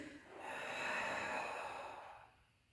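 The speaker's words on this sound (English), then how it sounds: "Basic Tai Chi exercise, that's the breathing that we use in the Tai Chi exercise." A slow, audible breath swells and fades over a few seconds during a basic Tai Chi breathing exercise, close and fairly quiet, with no talk over it.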